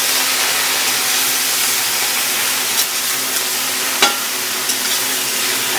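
Taro greens stir-fried in a little oil give a steady, bright sizzle and hiss, with a few soft scraping clicks from the stirring spoon over the continuous frying noise.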